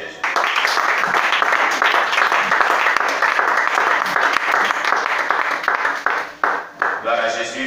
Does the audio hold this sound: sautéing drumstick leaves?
no